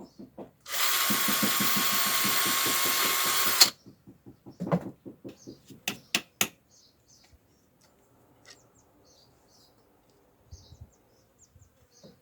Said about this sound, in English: And I'm just gonna pre-drill.